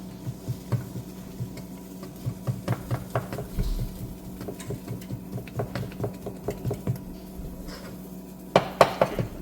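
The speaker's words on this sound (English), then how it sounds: "Let's mix that up." Egusi and okra soup stirred in a pot, a spoon scraping and knocking in a quick, steady rhythm, close and moderately loud.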